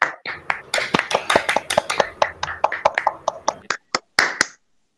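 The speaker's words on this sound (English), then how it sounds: "Let's all welcome her with a big round of applause." An audience at a school annual day claps to welcome the chief guest: a run of distinct, fairly close hand claps that come in quick, uneven succession for several seconds and then stop, with no voices over them.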